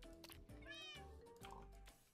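Several Minecraft cats meow in quick succession, close and fairly soft, with a voice speaking faintly underneath.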